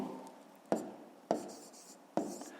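A pen writes numbers on paper during a math exercise: soft continuous scratching broken by three sharp taps about a second apart, close and quiet.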